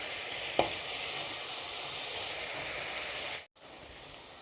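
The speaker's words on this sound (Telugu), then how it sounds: "ఇగోండి ఉల్లిపాయలు ఇలా వేగినాయి కలర్ చేంజ్ అయినాయి" Onions frying in a pan for chicken curry, giving a steady broadband sizzle with one sharp utensil tap early on and a brief drop to near silence near the end.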